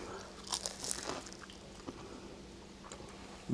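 Crisp crunching bites into a game day egg roll with a crunchy wrapper and smokies inside, a few close crackly bursts early, then quieter chewing.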